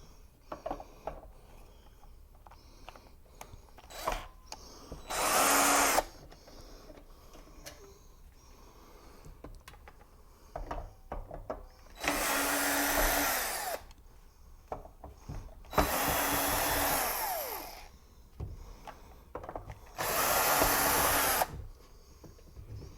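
Screws being backed out of a Giandel 5000 watt power converter with a Phillips bit: four separate whirring bursts about a second long, with clicks and handling noises in between.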